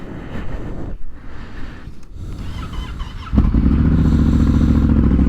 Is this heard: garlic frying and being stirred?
no